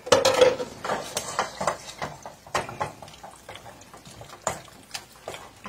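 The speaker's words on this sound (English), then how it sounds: "we're going to put our 2 eggs in here. And we're going to stir this together." Two eggs are stirred into a casserole mixture in a bowl, giving a string of close, irregular clinks and wet scraping strokes of utensil against the bowl.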